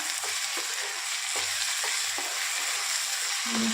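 Egg curry frying in oil in a kadhai, with a steady close sizzle and a few soft scraping stirs of a spoon against the pan.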